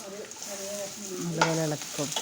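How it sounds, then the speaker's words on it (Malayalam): Chopped or crushed ginger fries in a pan for vegetable biryani, giving a soft steady sizzle while a spoon stirs and scrapes it. A voice speaks faintly over part of the clip. "എന്നിട്ട് നല്ലപോലെ ഇളക്കി കൊടുക്കുക."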